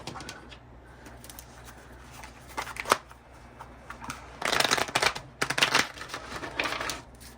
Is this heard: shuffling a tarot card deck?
yes